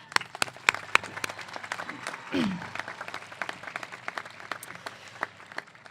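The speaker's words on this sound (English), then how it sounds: "So let's get a round of applause for that." Graduation audience applauding at a ceremony, scattered claps spread across a fairly faint, thin crowd with sharp individual hand strikes standing out and a brief cheer or voice rising midway.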